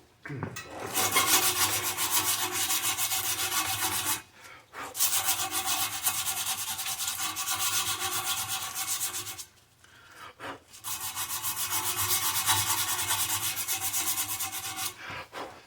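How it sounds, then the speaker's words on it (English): Folded emery cloth sands the brazed bottle bosses on a bicycle frame, making close, steady raspy rubbing in three long strokes separated by short pauses, with no speech. "Let's hit a little sandpaper and see how well this cleans up."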